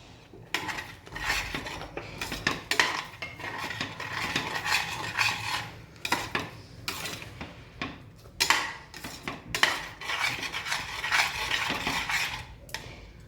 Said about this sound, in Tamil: எல்லாத்தையும் மிக்ஸ் பண்ணிடுங்க.